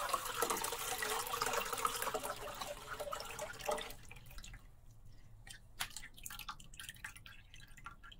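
Liquid for a Chinese New Year cake is poured in a steady, splashing stream that thins into scattered close drips and trickles.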